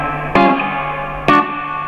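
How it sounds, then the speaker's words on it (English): A guitar through a Two-Rock amp with its reverb return set low, two sharp gritty strums each ringing out in a sustained, noisy reverb tail. "it gives a more gritty sort of reverb"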